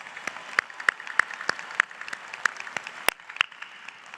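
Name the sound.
audience applause for family and friends at a commencement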